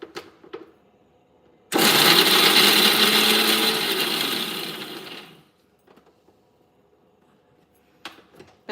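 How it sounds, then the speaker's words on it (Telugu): A mixer grinder whirs loudly for about four seconds, then winds down, with quiet handling clicks before and after. "మిక్సీకి వేసినప్పుడు సౌండ్ వస్తుంది"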